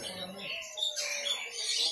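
Caged songbirds chirp at an Indonesian bird market, including a rawatan bird offered for sale, with bright overlapping calls under someone talking nearby.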